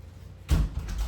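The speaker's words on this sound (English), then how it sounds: "Let me close this door." A door pushed shut inside a home garage, one loud close with a brief rattle and a softer knock just after, near and fairly strong against a quiet background.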